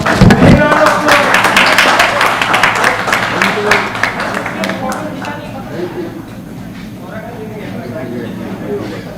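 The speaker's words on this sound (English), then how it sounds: "Big round of applause." An audience applauds at the grand finale of a CA students' debate competition; dense clapping starts strong, then thins and fades over several seconds while a voice speaks throughout.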